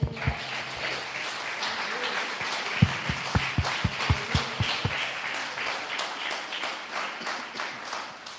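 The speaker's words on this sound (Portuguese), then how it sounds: "Então vamos dar um aplauso para Jesus" Congregation applause at a church sermon, a dense wash of many hands clapping with a few sharp, louder claps standing out near the front, steady throughout with faint voices underneath.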